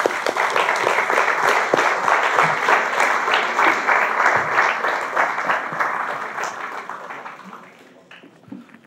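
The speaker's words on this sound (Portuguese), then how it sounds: "Uma salva de palmas, por favor, para Mário Cláudio." An audience at a literary talk event in Porto applauds to welcome the author Mário Cláudio: sustained, dense clapping from a seated crowd that holds steady for about seven seconds and then tapers off.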